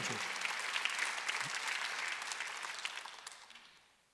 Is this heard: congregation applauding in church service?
yes